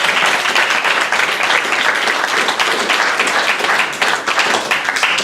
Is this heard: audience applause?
yes